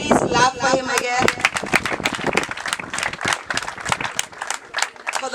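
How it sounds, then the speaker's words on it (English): Applause after a speech at the opening ceremony of a youth football summer camp, with a crowd's dense clapping sustained throughout, fairly loud and close, with voices mixed into the clatter. "Can we please clap for him again?"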